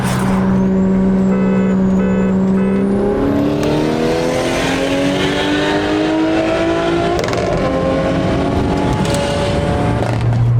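A BMW F10 M5 engine roars loudly and climbs steadily in pitch as it accelerates hard, one continuous close-up pull with no talking.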